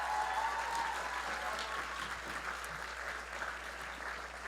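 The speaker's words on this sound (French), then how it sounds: "Merci, donnez-vous une bonne main, applaudissements s'il vous plaît." Applause from a live podcast audience, a steady patter of many hands clapping at moderate distance, fairly quiet and slowly easing off over a few seconds.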